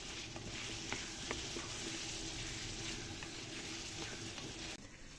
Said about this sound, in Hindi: आलूओं को अच्छी तरह से फ्राई करेंगे।